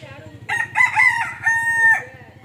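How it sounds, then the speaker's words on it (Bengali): A rooster perched on a tree branch in a village near Bandel crows once, loud and close, a rising-then-held cock-a-doodle-doo over a low steady engine-like hum. "অনেকক্ষণ থেকে ডাকছে ককর ক ককর ক, তারপর দেখছি গাছের ডালে উঠেছে মোরগ।"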